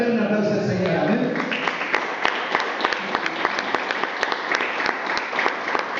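A church congregation bursts into applause after a voice speaks, the clapping building into a dense, steady round with crisp individual claps that holds to the end.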